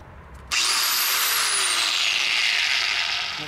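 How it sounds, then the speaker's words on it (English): An angle grinder spins up suddenly with a sharp, high-pitched whine, then holds a steady loud motor scream that slowly dips in pitch as it runs on alone nearby. "Okay, one angle grinder."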